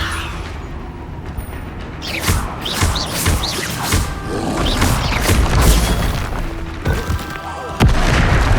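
A Confringo blasting spell goes off in Hogwarts Legacy, deep booming blasts and crashing debris with mechanical creaks, loud and close over game sounds.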